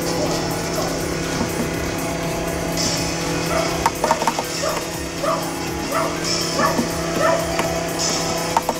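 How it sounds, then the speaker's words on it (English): A dog barks and yips in short scattered bursts at a middle distance over a steady background hum of a distant chainsaw, with no one talking. "Sorry about the noise of the dog and the chainsaw in the background."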